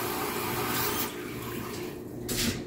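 Water pouring into a bucket of liquid soap mixture, a steady broadband splashing stream that runs the whole time, loud and close, easing slightly in the middle and building again near the end.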